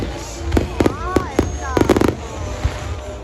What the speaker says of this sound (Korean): 아주 예쁜 불꽃놀이를 구경했습니다